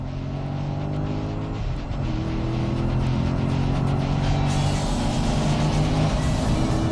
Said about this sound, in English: Listen to that engine, huh?